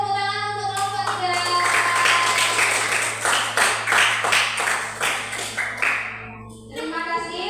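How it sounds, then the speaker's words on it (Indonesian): Clapping for group 3 in a classroom presentation session, steady overlapping hand claps from a small group lasting several seconds, with a faint voice and a steady hum underneath before it tapers off. "Ayo, kasih tepuk tangan untuk kelompok 3."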